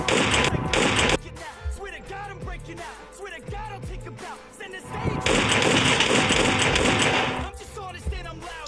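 Gunfire in a PUBG-style shooter game: rapid bursts of automatic shots and scattered single cracks come in two dense clusters, with someone talking in between.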